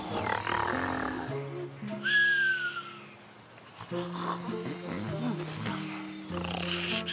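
Deep, rumbling snores from a cartoon character repeat in slow cycles, with a brief high whistle gliding downward in between; the snoring sounds cartoonish and close.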